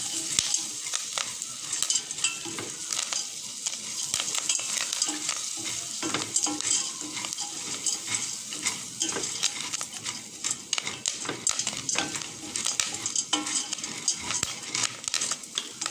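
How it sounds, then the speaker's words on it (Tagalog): Popcorn kernels cooking with butter in a pot, a dense, continuous crackle of sharp pops and sizzling with scraping and stirring clatter throughout, close and steady with no voices. "Tutukan na yung hindi nag-pop kanina."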